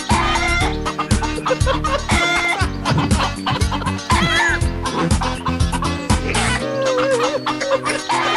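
Clucking chicken sounds are woven through an electronic remix, with repeated hen clucks riding over a dense, steady beat and synth layers that carry on throughout without pause.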